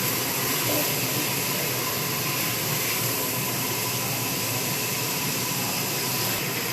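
Spices and ginger fry in hot oil for a lauki dal, giving a constant, even hiss that stays close and loud with no voices.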